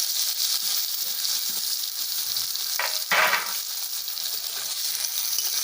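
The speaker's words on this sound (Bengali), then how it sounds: "পেঁয়াজগুলো হালকা ভেজে নেব।" Chopped onions sizzle steadily in hot oil in a kadai after potatoes were fried in it, a continuous close frying hiss with a brief louder burst of stirring partway through.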